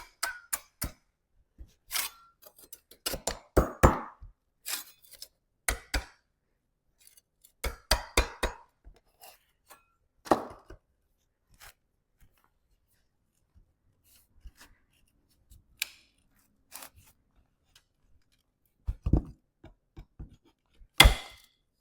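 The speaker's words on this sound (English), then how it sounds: "The nails are so old and so rusted that they just, as you saw, just break right off." Old rusted nails being worked out of weathered wood in a garage, heard as scattered sharp creaks, scrapes and knocking clatters in short bursts with quiet gaps, close and fairly loud.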